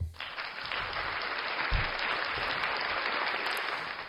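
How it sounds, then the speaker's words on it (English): Steady applause fills a podcast studio, a bright continuous wash of clapping sustained for several seconds at fairly high volume with no speech over it. "One more round of applause for that."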